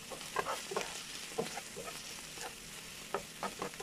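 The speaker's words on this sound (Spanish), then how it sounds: "Y empezamos a batir los otros champiñones." Canned mushrooms being stirred and beaten in a pan while cooking stuffed chicken breasts, irregular soft scraping and tapping strokes over a faint sizzle, close and fairly quiet, no speech.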